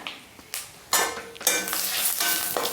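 Fennel seeds are dropped into hot oil with frying spices, giving close, loud bursts of crackling sizzle that swell in waves as they hit the pan, with no talking.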